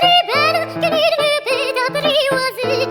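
Bright, busy instrumental reference track plays, with a steady bass line and a wavering high lead melody that shifts quickly over three seconds.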